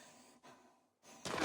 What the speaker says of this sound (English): You do not need to be breathing that heavy